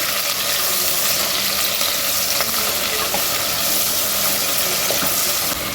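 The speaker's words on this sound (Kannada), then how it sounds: "ಉದ್ದಕ್ಕೆ ಹೆಚ್ಕೊಂಡಿರೋ ಹಸಿಮೆಣಸಿನ್ಕಾಯಿನ ಹಾಕ್ಕೊಂಡಿದ್ದೀನಿ. ಚೆನ್ನಾಗಿ ಫ್ರೈ ಮಾಡ್ಕೋಬೇಕು" Sliced green chillies frying in a pan with garlic paste, a steady close sizzle with faint stirring scrapes, continuous and fairly loud.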